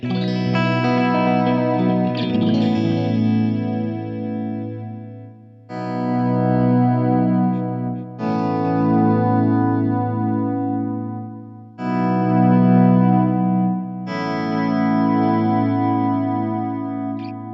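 Sustained electric guitar chords in several phrases with gentle pauses, each trailing into soft, dark, muffled echoes from a JHS Pink Panther delay pedal with darkened repeats.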